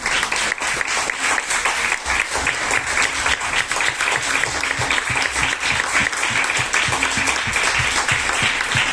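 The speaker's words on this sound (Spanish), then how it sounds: "yo creo que se merecen un fuerte aplauso" Sustained audience applause fills the room after a Spanish-language literary talk on contemporary aphorism, dense steady clapping holding at a constant level for the whole stretch with no voices rising above it.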